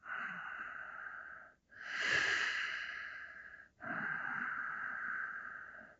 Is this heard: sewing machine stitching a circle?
no